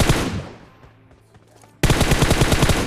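Gunfire in the mobile battle royale game BGMI: a loud burst fades into a decaying tail, then rapid automatic fire rattles on in steady close bursts.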